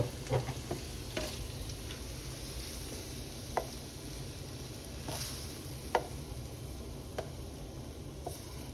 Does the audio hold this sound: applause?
no